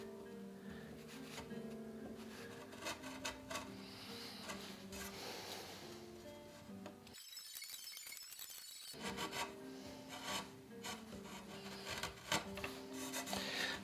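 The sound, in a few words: paring wood on a Greenland paddle with hand tools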